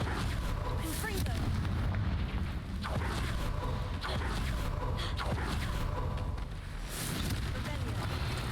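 Blasting-spell explosions in the Hogwarts Legacy video game, dense rumbling booms and bursts repeating through a loud, busy game mix with no clear gaps.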